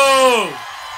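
A single loud whoop rises from the crowd at a political public meeting in Kovvur, its pitch sliding downward before fading into a softer background murmur within a second.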